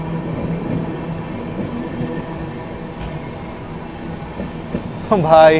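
Darbhanga Clone express train running past on rails beside a moving train, a steady broad rumble of wheels with a brief squeal near the end, close and loud, with someone speaking briefly over it.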